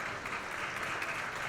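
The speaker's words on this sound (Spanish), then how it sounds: "un fuerte aplauso para en realidad ustedes que compartieron este panel" Audience at a business panel applauding the participants, a brief, dense and steady wash of many hands clapping, even in level and heard from within the room.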